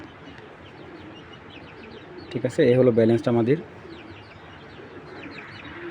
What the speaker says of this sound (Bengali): এই দেখুন হলো মাদি কবুতর